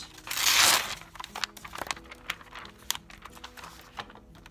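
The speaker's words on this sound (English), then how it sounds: "So I'm going to tear out a page." A paper page torn out by hand, making one loud rasping rip at the start, followed by lighter crinkles and small clicking handling noises, close by with no talking.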